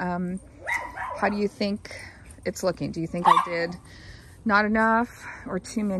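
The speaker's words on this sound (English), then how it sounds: "my dogs are barking no matter how much I" Several dogs bark and yip repeatedly outdoors near a garden bed of snapdragons, close and loud, in bursts over someone talking.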